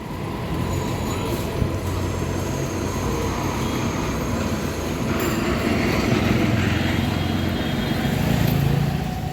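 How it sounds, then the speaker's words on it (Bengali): A metro rail train rumbles past on a hot day, a steady dense roar that holds for several seconds and swells slightly toward the end, with no talk. "এই দেখো মেট্রো রেল"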